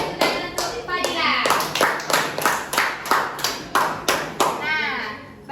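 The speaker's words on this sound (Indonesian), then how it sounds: "Berikan tepuk tangan untuk Fadila." Classroom applause for a student named Fadila: a burst of many hands clapping in a quick, uneven rhythm, fairly close and loud, lasting several seconds and swelling then tapering off.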